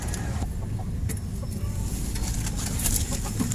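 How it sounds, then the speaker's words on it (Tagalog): Hens in a backyard vegetable plot cluck softly and sporadically against a steady outdoor background hum, with faint traffic noise, fairly distant and low in level. "Nag-aabang na yung mga manok."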